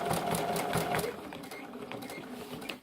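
A sewing machine stitches a fabric machine cover in fast continuous bursts, loud and close, with a brief easing midway before picking up again.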